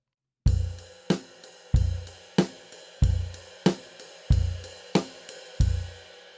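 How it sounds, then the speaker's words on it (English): A rock beat plays on a drum kit: punchy bass drum and snare hits trade in a steady, even rhythm, with ride cymbal eighth notes shimmering continuously beneath, close and clear with no talking. "So we're going to play bass drum on beats 1 and 3"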